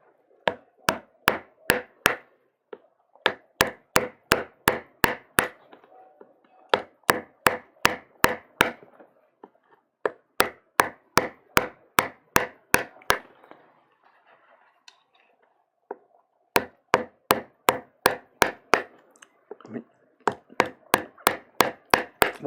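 A chisel cuts into a wooden block for Japanese woodblock printmaking, heard as crisp, close taps in rapid bursts of about five to eight strikes, separated by brief pauses.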